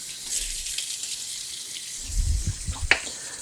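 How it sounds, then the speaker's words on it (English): Water from a kitchen sink tap splashes over cucumbers held in a colander, a quiet running hiss with a few louder splashes and knocks toward the end. "Now I'm going to move over to the sink and give them a rinse."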